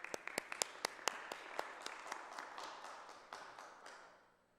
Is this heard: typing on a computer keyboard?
no